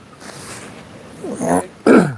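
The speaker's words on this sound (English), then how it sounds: "I had to blow my nose." A person blows their nose in two short bursts, a rising snorting honk followed by a louder, harsher blast, close and fairly loud after a quiet moment.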